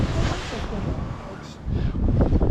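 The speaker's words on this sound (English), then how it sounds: "these horrible sporadic gusts of wind are not easing up whatsoever" Sporadic gusts of wind buffet the microphone beside a canal while fishing, a rough roaring rush that dips briefly and then surges back louder.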